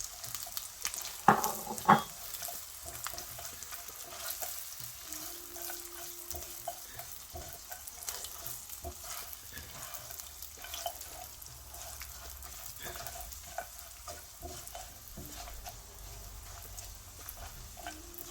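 About two tablespoons of white sesame seeds roasting in a pan while spices are prepared for vada pav: a faint, steady low sizzle throughout, with a couple of brief clinks near the start and no talking.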